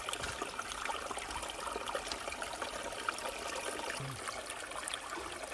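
Water flows steadily outdoors, a continuous close trickling and rushing wash of moderate loudness with no voices.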